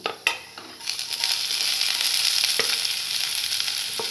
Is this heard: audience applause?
no